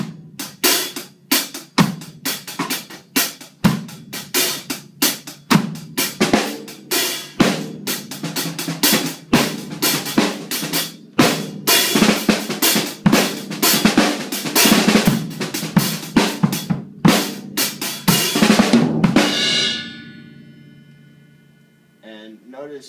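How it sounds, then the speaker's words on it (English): Reggae one drop beat played on a drum set, with tight sharp hits and a driving hi-hat in a steady repeating pattern, loud and close for about nineteen seconds before a ringing decay into near silence. "So, one drop sounds something like this."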